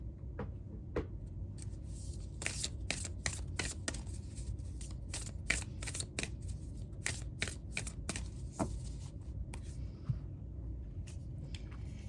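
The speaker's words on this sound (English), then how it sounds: "Let's get you a card from the self-care wisdom cards." Self-care wisdom oracle cards being shuffled by hand, a steady run of soft riffling flicks and slaps close up, continuing for several seconds with no talking.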